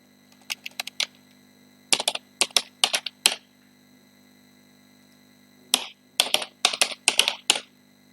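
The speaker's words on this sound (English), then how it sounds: "I put password." A password is typed on a computer keyboard in short clusters of crisp, close key clicks, with a pause between two bursts over a faint steady hum.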